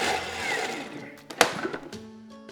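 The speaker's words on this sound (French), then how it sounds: "on va mixer nos petits pois" A kitchen blender purées green peas with chicken stock. Its steady whirring motor runs loud, then shifts pitch with a sharp clunk midway and settles into a lower drone.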